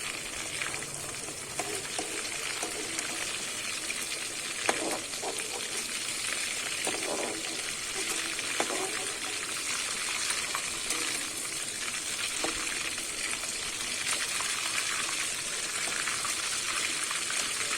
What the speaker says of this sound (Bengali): আমার কিন্তু মাংসগুলো ভালো করে আবারও ভেজে নিয়েছি।